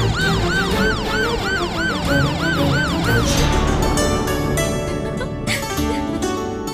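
An ambulance siren wails close by on a road after an accident, with rhythmic rising and falling sweeps that give way to a continuous tone as traffic noise swells and a faint voice appears.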